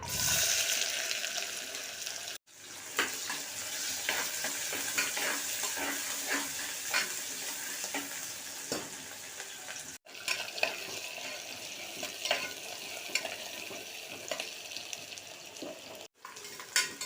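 Onions sizzle and crackle in hot oil with cinnamon, cloves and cardamom, a steady close frying hiss broken by stirring scrapes and a few brief pauses, with no talking.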